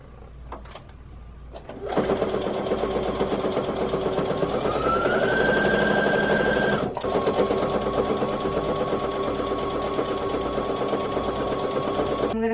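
A sewing machine starts up and runs in a fast, steady whir while stitching quilt blocks together, its pitch rising briefly, then holding with a short pause midway before continuing.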